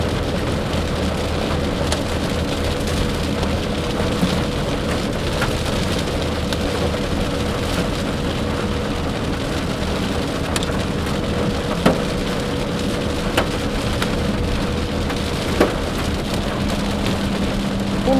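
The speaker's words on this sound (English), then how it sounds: "Got small hail in Carter." Small hail falling on a storm-chasing vehicle beneath a southwest Oklahoma supercell: a dense, steady patter on the roof and body, with occasional sharper pings over a constant road and cabin rumble.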